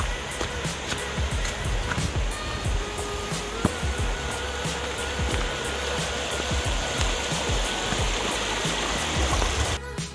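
A waterfall and stream in New Zealand pour out a loud, steady broadband rush of water that continues unbroken, with a few faint clicks scattered through it.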